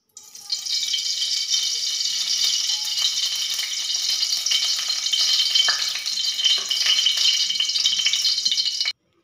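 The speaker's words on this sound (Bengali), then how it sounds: "তাই কড়াইতে দিয়ে দিচ্ছি তেল।" Hot oil in a karahi, heated for frying carp fish, gives a steady, close, bright sizzle that holds evenly for several seconds and then stops abruptly; no talking.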